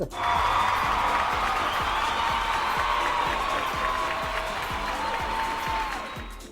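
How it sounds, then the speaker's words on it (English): An audience on a scratch card show breaks into loud, close applause with cheers and whoops, sustained clapping that fades toward the end. "Let's have a cheer for Stacey, please."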